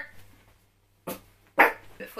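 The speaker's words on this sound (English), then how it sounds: "I'm so sorry about this dog, seriously." Two sharp dog barks ring out close by, loud and separated by a pause, with a quiet room around them.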